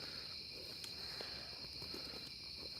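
Outdoors after rain, tree frogs and crickets call in a dense, continuous high chorus, steady and fairly faint, with a few small rustles underneath and no talking.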